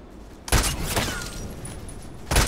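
Sniper rifle shots in a first-person shooter video game: two loud, sharp reports about two seconds apart, the first trailing off in a long echoing decay.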